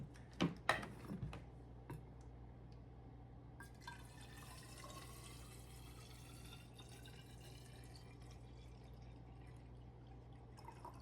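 A water bottle being filled with cold water: a few sharp knocks and clatters at the start, then a quiet, steady trickle of liquid running on under a low background hum.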